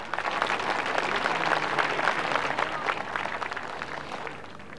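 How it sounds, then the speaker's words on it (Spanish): Audience applause for young workers of a Bolivian gas company at a home gas connection inauguration in Kupini, La Paz; dense, steady clapping from a sizable crowd that fills the whole stretch and stays fairly loud throughout. "pido que les den un aplauso a estos jóvenes de Casco Blanco"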